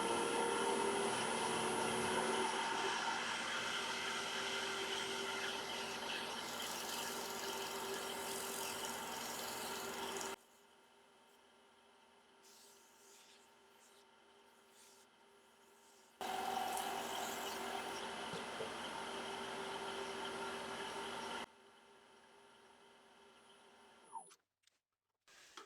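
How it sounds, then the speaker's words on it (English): Waxed elm bowl spinning on a wood lathe while being buffed, a steady whirring rub that runs continuously, cuts out for a few seconds, resumes, then stops near the end with a couple of faint knocks. "so I can get it buffed. So bring the speed up a little bit"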